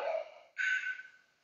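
Two close breaths during a yoga exercise: a soft exhale, a brief pause, then a stronger airy breath that slowly fades out.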